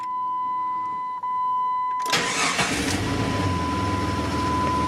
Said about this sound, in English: let's go turn this key, see if this thing's gonna start